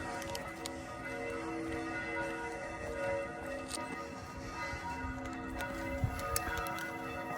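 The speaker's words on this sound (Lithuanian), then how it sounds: "O, varpai skamba. Į bažnyčią kviečia." Church bells ring on a Sunday in a Lithuanian town, a steady layered peal of sustained tones carrying over continuous street ambience, with faint ticking strikes throughout.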